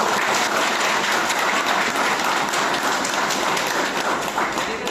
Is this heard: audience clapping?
yes